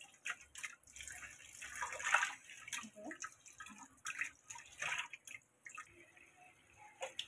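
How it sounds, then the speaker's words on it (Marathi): Raw chicken is rinsed in clean water, giving intermittent splashing and dripping in bursts, close and moderately quiet, with no talking. "आता आपण स्वच्छ पाण्यात चिकन धुवूया."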